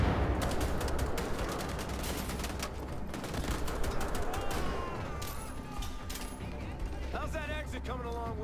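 Gunfire in the first-person shooter Wolfenstein: The Old Blood, a dense, continuous clatter of rapid shots through most of the stretch, loud and close, with brief voice sounds near the end.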